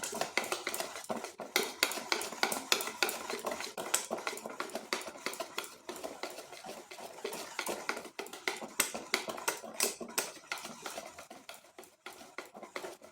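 Dry rice flour batter for dudh chitoi pitha is whisked briskly in a bowl, giving a steady, rapid stream of close clinking and tapping strokes that keeps up without pause, with no voices.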